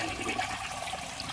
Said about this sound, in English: I went on with my routine of flushing my collection, as every evening